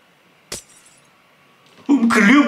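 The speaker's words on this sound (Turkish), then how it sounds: "blokları kırıyorum" A single sharp crack of a block breaking in Minecraft over a quiet hum, followed later by a loud burst of noise with a voice.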